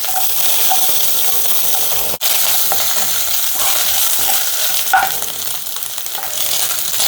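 Coconut pieces frying in hot oil after mustard seeds have popped, a continuous loud sizzle with a sharp click near the start and a soft clink later, no talk.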